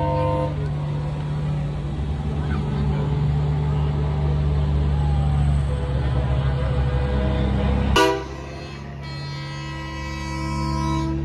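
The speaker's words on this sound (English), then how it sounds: "That's an air horn, though." A loud truck air horn blares steadily for about eight seconds at a truck show light parade, then cuts off abruptly, leaving engine rumble and road noise behind.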